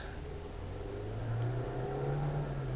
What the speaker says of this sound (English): The car is a Nissan 200SX, around 200 brake horsepower, turbocharged 4-cylinder.